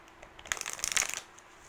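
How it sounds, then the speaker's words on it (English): Tarot cards are shuffled once in a quick, papery riffle that lasts under a second, close and fairly crisp against a quiet room, with no speech. "For Sagittarius, one more shuffle."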